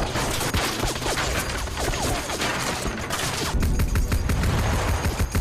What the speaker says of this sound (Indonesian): Organisasi Devil membombardir mereka dengan tembakan machine gun.